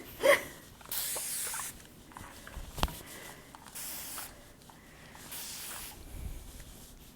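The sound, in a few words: spray bottle spraying water onto a wig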